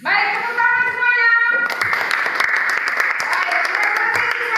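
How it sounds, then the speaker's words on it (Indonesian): Students applauding in a classroom, a burst of many hands clapping loud and close that follows a sustained voice at the start and continues steadily to the end. "tepuk tangan semuanya"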